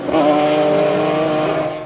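A race car goes off track during qualifying, its engine roaring loud and close with a sustained rising-and-falling tone for under two seconds.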